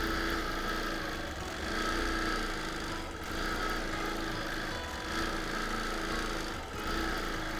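A sewing machine hums steadily up close while free-motion quilting a border on a wholecloth quilt, with slight surges in speed and no talking.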